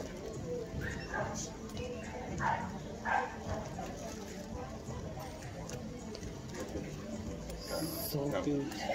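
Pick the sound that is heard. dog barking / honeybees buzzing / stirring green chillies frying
dog barking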